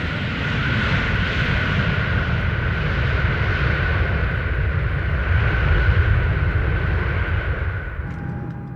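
A Boeing airplane in flight during a test program, its engines giving a loud steady roar with a sustained tonal whine, close and constant throughout, no voices.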